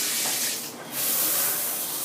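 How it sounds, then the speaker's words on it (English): Steady broadband hiss of water spraying from a non-adjustable shower head, continuous and fairly close, with a brief dip partway through as the flow shifts. "Turn the water on,"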